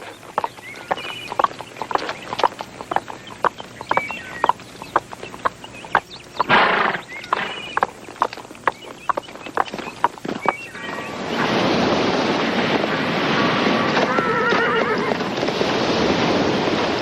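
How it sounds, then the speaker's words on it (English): A horse whinnies and snorts among irregular hoof clops, close by, before a broad rushing wash like surf takes over the second half. "It's a horse, Mrs. Taft"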